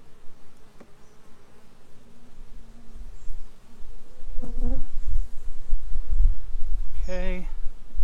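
Honeybees buzz steadily from an open hive with burr comb while a beekeeper works the frames, the hum rising and thickening through the middle, with a person talking briefly in the background.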